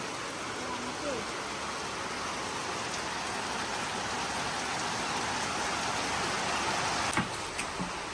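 Steady rain hisses evenly throughout, with a few faint knocks and clatters near the end.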